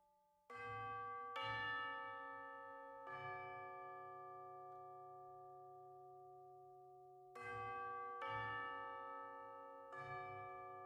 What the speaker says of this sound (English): tube bells.